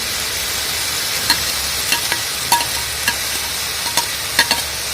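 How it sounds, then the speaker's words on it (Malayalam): Crushed garlic and ginger frying in a pan for a Kerala-style egg roast curry, a steady broad sizzle with a few soft clicks of stirring scattered throughout, close and even, no voices. "വെളുത്തുള്ളിയും ഇഞ്ചിയും ചതച്ചത് ഇടുകയാണ്."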